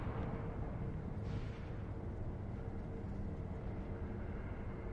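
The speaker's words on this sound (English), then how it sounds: "Explosion!" An explosion in the Sekiro video game during a boss fight, a loud, dense rumbling blast that fills the whole clip with a brief brighter burst near the middle, with no talking.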